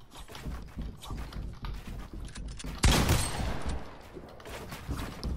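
Rapid bursts of gunfire from a shooting game, rattling volleys with a louder blast partway through, set against a busy background.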